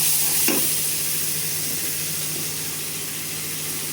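Ground coriander and cumin paste stirred into pumpkin frying in a pan, giving a loud, steady hiss of sizzling oil close up, with a brief stirring scrape near the start.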